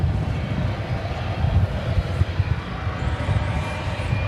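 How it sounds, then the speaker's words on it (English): Jet airliners at DFW Airport, a continuous loud roar of engines that rumbles steadily throughout, heard alone without talk. "So there you got two planes with a total of 7 engines."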